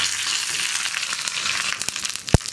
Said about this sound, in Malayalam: ഇനി നമ്മുടെ വറവ് ചേർത്തിട്ട് നമുക്ക് നന്നായിട്ടൊന്ന് ഇളക്കി മിക്സ് ചെയ്തെടുക്കാം